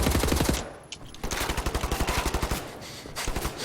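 Gunfire in the video game Wolfenstein: The New Order. A loud opening volley gives way to a fast, steady automatic burst of evenly spaced shots, then a brief pause and more firing at the end.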